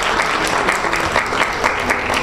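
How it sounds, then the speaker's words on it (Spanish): Audience at a publishing event applauding a guest before her talk begins; loud, dense clapping from a crowd fills the whole stretch, steady and close. "un fuerte aplauso para entrar calor"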